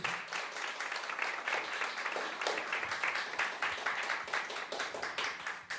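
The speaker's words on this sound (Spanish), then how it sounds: "les pido un aplauso muy fuerte para la maestra Andrea Cuevas y la maestra Marcela Velázquez" Audience at a conference on women and disability claps for two speakers, a steady dense patter of many hands heard close, holding level for several seconds without talk.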